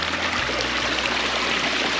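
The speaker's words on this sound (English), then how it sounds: "Coming on up here, small waterfall here." Water from a small garden waterfall spills steadily down a stone and boulder slope, a close, continuous rushing trickle with no voices.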